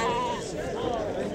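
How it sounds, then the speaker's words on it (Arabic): A sheep bleats once at the Souk Lkhmis livestock market in Timhdit, Morocco, a short wavering cry over the steady murmur of a busy crowd. "هذا خروف مليح تبارك الله"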